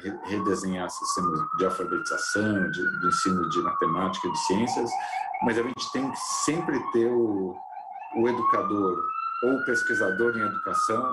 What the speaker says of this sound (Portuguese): desculpa a sirene